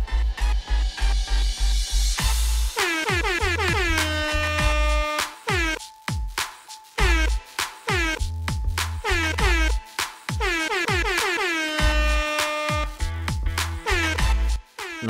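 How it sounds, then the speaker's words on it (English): Loud, repeated air horn blasts stacked in a rhythmic musical pattern, honking bursts over a heavy bass beat throughout. "is this entire track air horns?"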